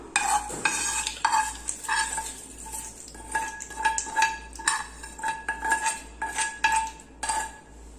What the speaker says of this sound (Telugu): వేసుకున్న తర్వాత ఒకసారి మిక్స్ చేసేసుకుందాం మొత్తం